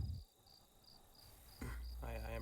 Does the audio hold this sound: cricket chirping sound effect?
yes